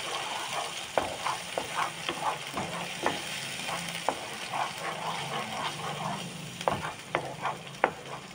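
Momo filling stirred in a hot pan: soft sizzling underneath regular scraping and knocking strokes of a spoon on the pan, repeating roughly every second with occasional sharper clanks.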